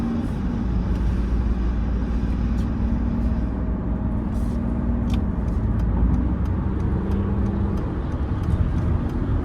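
Cabin of a 1997 Mercedes-Benz E300 Diesel under way: a steady engine and road rumble while the car drives and accelerates. Faint ticks and clicks sit over the constant drone, and no one speaks.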